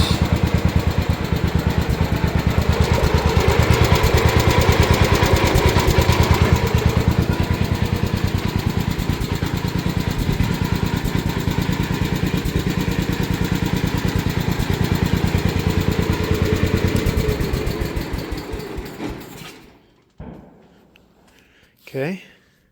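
A Gravely 816 garden tractor engine running with its PTO engaged, a loud, close, steady chugging drone that winds down and cuts off near the end, followed by a few faint clunks.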